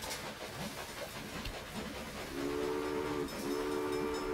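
Trains in the Railway Empire game rumble along steadily with hissing steam, and a steam whistle blows two sustained tones in the second half, close and fairly loud.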